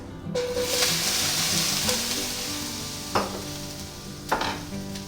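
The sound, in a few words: tomatoes added to a frying pan, sizzling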